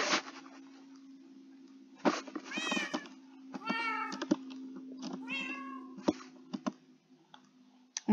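A cat meows several times in a row, clear and fairly close, over a steady low hum in an indoor studio setting.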